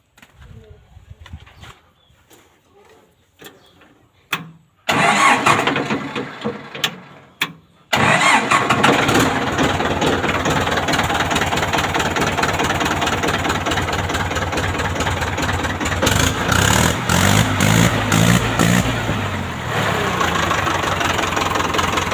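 A few faint knocks, then a Ford 6600 tractor engine cranks and catches, settling into a loud, steady diesel idle that runs on with birds faintly in the background.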